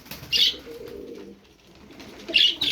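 Domestic pigeons kept by a Turkish breeder, one a roof pigeon, give a soft low coo in the middle, framed by brief bright chirpy calls at the start and end, close by and moderately quiet.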